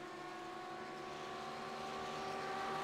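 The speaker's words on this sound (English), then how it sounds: "Listen to that V10 scream. I love how these cars sound." Audi race car with a Lamborghini-sourced V10 in the iRacing game, Audi Cup at the Nürburgring GP, a sustained high-pitched engine scream holding steady and slightly rising.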